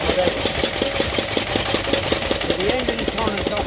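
A barge engine runs close by with a fast, regular chugging beat over a low rumble, a voice speaking over it at times.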